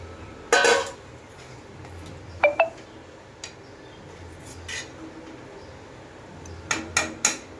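A spoon works through onion curry in a pan, with a few sharp metallic clinks and scrapes scattered over a quiet background.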